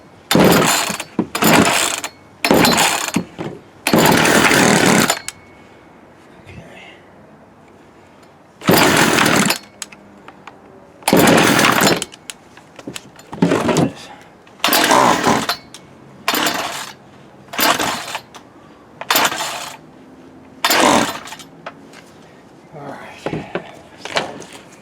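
A Poulan 36cc Wild Thing chainsaw is pulled and fired repeatedly, giving loud, close bursts of two-stroke engine snarl that run a second or several before cutting out, separated by quieter gaps with faint talk.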